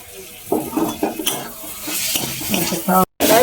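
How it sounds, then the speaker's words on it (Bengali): Momo filling with garlic and black pepper stirred in a pan, with clinking spatula strokes against the metal over a soft sizzle. "দিয়ে আমি এটাকে ভালো করে এখন নাড়বো।"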